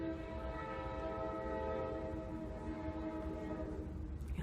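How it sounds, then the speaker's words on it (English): Train rolling past with a sustained horn-like tonal drone and rumbling wheels, steady and fairly distant, fading slightly toward the end, no talking. "wait for the train to go by"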